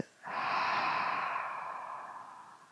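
One long, loud breath is drawn in and held, then slowly fades during a yoga breathing practice, alone with no talking.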